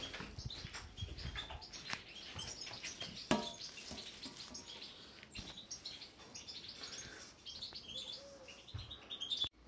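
Goldfinch chicks over ten days old, handled for leg ringing, give thin high chirps and tweets in scattered bursts throughout, close and moderately loud, with no talking.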